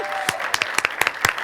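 Applause at an award ceremony as a top prize is presented, with scattered, fairly distinct claps from a modest crowd rising and falling in loose bursts.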